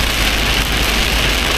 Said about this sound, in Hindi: ये मेरे को लग रहा है कि ओले पड़ रहे हैं